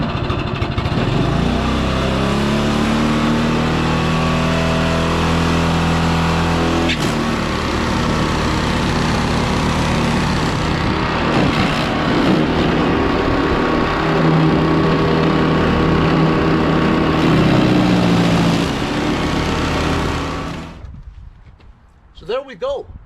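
A Toro 418ZE Power Clear single-stage four-stroke snowblower running on a newly fitted replacement carburetor, a loud steady engine drone close up that holds for about twenty seconds before winding down and cutting out, with a few clunks at the end.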